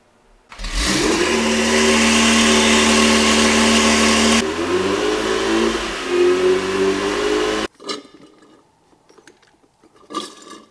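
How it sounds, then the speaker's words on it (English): A supercar engine runs with its transmission engaged, idling loud and close at a steady hum with a brief pitch shift midway, then cuts off abruptly, leaving faint workshop clatter. "run the car, engage the transmission, and get the trans temp up to about 100 degrees"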